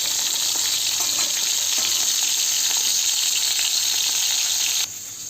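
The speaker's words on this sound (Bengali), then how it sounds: "আমি মাছগুলো আস্তে আস্তে ভাজতে ছেড়ে দিচ্ছি" Fish frying in hot oil in a wok, a loud, dense, continuous sizzle close to the microphone that drops a little in level near the end, with no talking.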